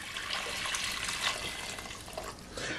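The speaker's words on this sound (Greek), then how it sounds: "Θα ξεκινήσουμε με το σιρόπι. Θα βάλουμε 1 λίτρο νερό." Water pours steadily into a pot for cake syrup, a soft, continuous splashing stream heard close and fairly quiet for a few seconds.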